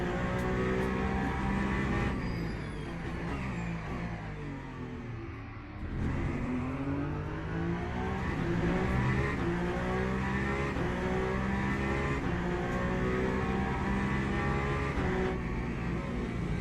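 Peugeot race car engine in the Le Mans Ultimate racing game at Spa, loud and close, with a sustained roar that rises and falls through gear changes, dipping briefly before building again.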